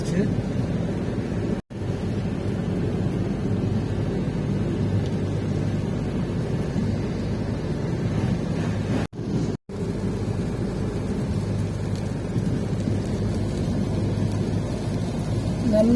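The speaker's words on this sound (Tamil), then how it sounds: "நல்லா மழை பெய்ய ஆரம்பிச்சிருச்சு." Heavy rain and thunder heard from inside a car moving along the Chennai–Bangalore highway: a steady, dense roar of rain and road noise fills the cabin throughout, broken by a couple of brief dropouts.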